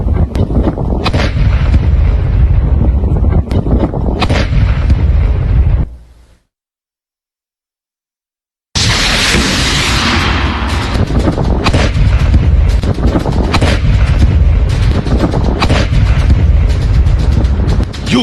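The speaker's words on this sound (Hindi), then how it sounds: "धमाका कितनी तेज इंटेंसिटी का है," A Russian air strike on Zaporizhzhia airport sends out continuous heavy, thundering blasts and booming rumble, loud and relentless, cut by a few seconds of total silence midway before the barrage resumes.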